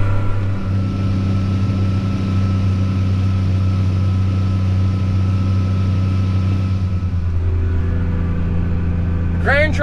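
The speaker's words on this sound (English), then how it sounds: "Grain truck's heading to the elevator." A grain truck drives toward the elevator during an Illinois corn harvest. Its engine holds a steady, close, droning hum with strong low harmonics, shifts in tone about three-quarters through, and ends with a brief higher whine.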